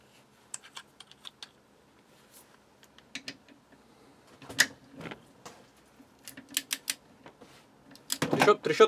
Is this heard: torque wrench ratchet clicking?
yes